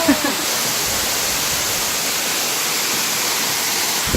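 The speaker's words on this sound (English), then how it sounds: "So we made it to the waterfall!" A waterfall on Mt Kawanori, reached on a mountain hike, gives a steady, full rushing roar close by that runs without a break for the whole stretch.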